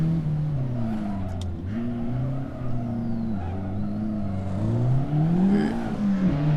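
A Honda Civic Type R FK8 laps the Ebisu race track, its engine droning steadily with rising and falling pitch through the gears as it corners, loud and continuous from inside the car.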